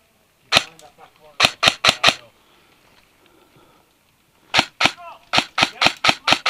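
Airsoft guns fire during an outdoor skirmish game, sharp snapping shots in quick bursts of three to five, a quiet pause between volleys, then rapid shots again, close and loud with faint voices in the gaps.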